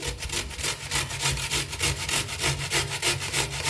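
Beetroot grated by hand for a Maharashtrian dhapata flatbread, giving steady, rhythmic rasping strokes that repeat quickly and closely with no talking.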